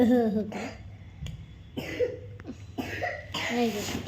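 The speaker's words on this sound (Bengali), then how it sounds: "আবার কে কাশি করছে" Several coughs spaced across a few seconds, close and moderately loud, with a voice sounding between them.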